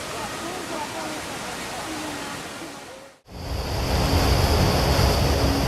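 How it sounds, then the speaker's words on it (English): Flash-flood water rushes powerfully through a town, washing away roads, a loud continuous roaring torrent that briefly cuts out midway then returns even heavier. "Look at how easily the powerful current is washing away the roads"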